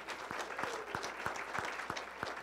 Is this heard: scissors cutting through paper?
no